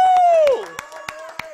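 A church congregation erupts with a loud, falling shout followed by a handful of sparse, separate hand claps during an evening worship service.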